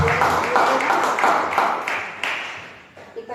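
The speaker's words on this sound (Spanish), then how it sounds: "usted pueda levantar un aplauso al Señor y gratitud a Él." Church congregation clapping in praise to the Lord, a loud burst of many hands with rhythmic accents that gradually fades out over a few seconds.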